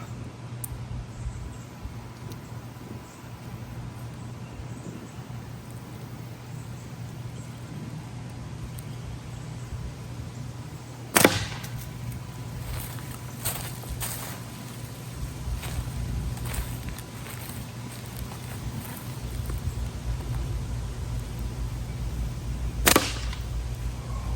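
Shots from a SimpleShot Hammer slingshot crack sharply twice, a loud snap near the middle and another near the end, with a few softer ticks between them over a steady low background hum outdoors.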